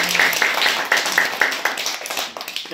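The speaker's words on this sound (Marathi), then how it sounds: "एकदा जोरदार टाळ्या वाजवून त्यांचं आपण स्वागत करूया" A village audience breaks into hearty, dense clapping to welcome a guest at a birthday function distributing school supplies to students, the applause steady throughout and slowly thinning toward the end.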